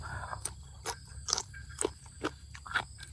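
Someone chews som wua, a fermented beef dish, close up, with repeated wet crunching bites and smacking at an irregular rhythm over a faint steady hum.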